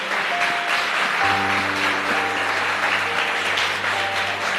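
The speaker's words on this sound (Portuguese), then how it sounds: "Vamos aplaudir Jesus, que ele merece." A church congregation applauds steadily throughout, dense clapping over sustained keyboard chords that enter partway and hold underneath.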